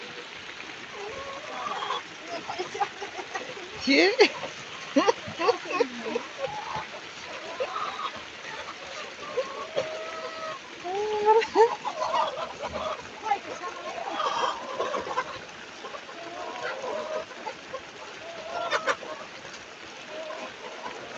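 Chickens and roosters at a local chicken farm cluck and squawk in scattered bursts amid wet, rainy surroundings, with people talking on and off throughout.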